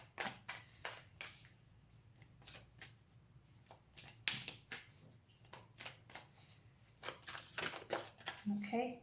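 An Ask the Angels card deck shuffled by hand, close-up riffling and papery slides in repeated bursts, soft to moderate, with a voice murmuring faintly under the handling.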